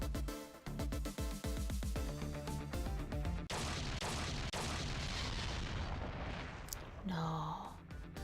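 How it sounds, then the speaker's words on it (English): An explosion in the video game Ghost Trick: loud, dense rumbling blasts and crashes that fill the scene, ending in a sharp swoosh. "I think I heard an explosion somewhere"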